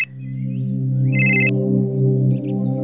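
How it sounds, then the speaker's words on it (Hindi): A steady electronic ringtone keeps sounding with a held, buzzing tone, and a brighter, higher chiming burst briefly joins in partway through. "बहुत देर से वहीनी का फोन आ रहा है"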